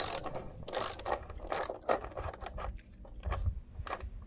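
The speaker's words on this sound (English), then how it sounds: "But once I loosen this one nut, it will come right off." Ratchet wrench with a 19mm socket loosening a nut on the belt clamp of a pool filter, giving close, crisp clicking bursts in short irregular strokes separated by brief pauses.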